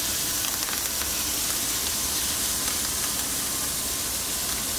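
Alaska king salmon and garlic fry in a hot pan with a loud, dense, continuous sizzle that holds steady throughout, with faint crackles on top.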